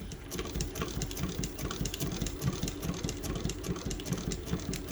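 Sewing machine running a two-thread chain stitch for embroidery, a fast, even mechanical whir with a rapid regular needle pulse, steady and fairly quiet, with no talking.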